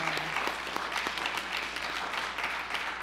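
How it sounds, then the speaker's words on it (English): A church congregation claps in thanks to the anniversary committee during Sunday morning worship, a steady, moderately loud patter of many hands with a few sharper individual claps standing out. "Let's give them a hand clap of thank you."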